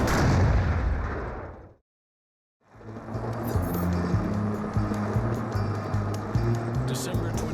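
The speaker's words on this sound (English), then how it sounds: "they jump up with the Panzer Force, and they fire at us" German Panzer tanks open fire on troops during the Battle of the Bulge in December 1944: heavy, loud blasts, a brief silence, then a steady rumble of armored engines with scattered bursts and voices mixed in.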